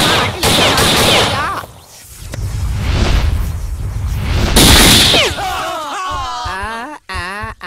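Gunfire in a Kannada action film breaks out as loud, sharp blasts layered with dramatic soundtrack and shouting, followed by a voice talking.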